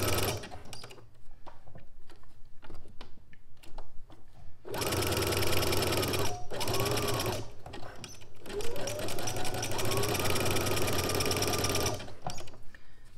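A sewing machine runs a zigzag stitch along a skirt waistband in long steady bursts, loud and close, stopping briefly between runs, with a quieter stretch at the start.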